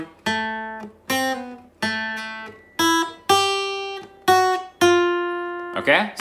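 Guitar picks out the third section of a theme in seven distinct plucked notes, each ringing and fading in a steady melodic line, close up, with a short voice right at the end.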